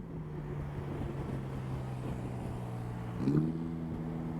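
A Yamaha T-Max scooter idles at a motorcycle fair with a low, steady engine and exhaust hum under background crowd noise, then a brief rev swell near the end.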